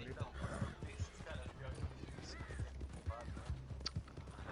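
Horse hooves clip-clopping with a short whinny in the Red Dead video game, rhythmic thuds steady across the clip beneath game sounds and someone talking.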